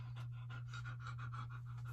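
A dog pants heavily and fast in an even rhythm, close and quiet, over a steady low electrical hum.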